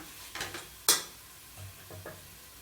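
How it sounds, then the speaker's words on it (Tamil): A spoon stirs biryani masala sautéing with curd, mint and coriander leaves in a pan: a few soft scrapes and one sharp clink against the pot over a faint sizzle, close and quiet. "சேர்த்து கிளறி விட்டு சிக்கனை வந்து இதில் போட்டு வதக்கிக்கலாம்."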